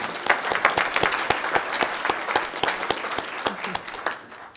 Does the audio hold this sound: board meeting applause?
yes